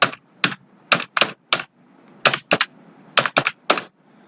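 Typing on a computer keyboard during data entry, close and crisp keystrokes in irregular short bursts separated by brief pauses, alone in a quiet room.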